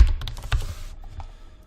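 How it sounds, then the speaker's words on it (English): A few quick keystrokes on a computer keyboard as a password is typed, close and fairly clear in a quiet room, tapering off into near silence. "if I had typed in the password like this"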